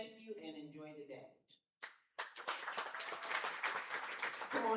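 An audience at a mental health symposium bursts into sustained clapping right after a speaker finishes, a dense even patter of many hands that carries on for a few seconds.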